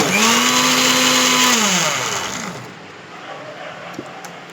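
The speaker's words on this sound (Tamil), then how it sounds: "நல்லா வெந்துடுச்சு, அரைச்சிக்கலாம் மிக்ஸியில்" A kitchen mixer grinder whirs loudly as it grinds cooked dal with black nightshade leaves, its motor pitch steady, then winding down after about two seconds into a quieter rattle and a small knock.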